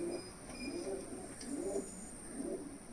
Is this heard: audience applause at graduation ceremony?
no